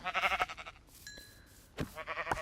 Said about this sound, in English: Oh, I'm getting sheep.